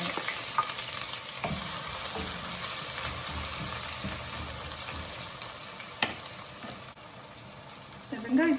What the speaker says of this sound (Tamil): எண்ணெய் காஞ்ச பிறகு கடுகு, மஸ்டர்ட், பொரிய தொடங்கினோடனே வெங்காயம் போடுங்க.